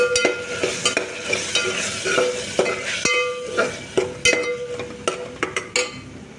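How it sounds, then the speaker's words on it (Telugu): Pounded spinach fries in a pan with a steady sizzle as a spoon scrapes and knocks against the pan in quick, repeated strokes, loud and close. "ముందుగా దంచి పెట్టుకున్న పాలకూరను కూడా ఇందులో వేసుకోవాలండి."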